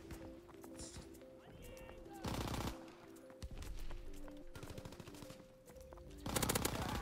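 Thompson M1928 submachine gun bursts in Call of Duty: WW2 on the Flak Tower map, several short sharp volleys of rapid fire over busy game ambience, with quieter gunfire between them.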